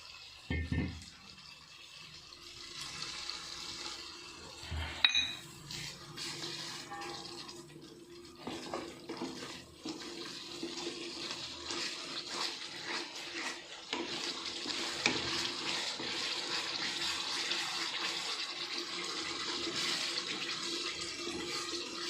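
Hot water poured into frying masala for a soybean chunk curry, a gurgling splash followed by a steady hiss and bubbling that builds and continues to the end, close and moderately loud, without talking.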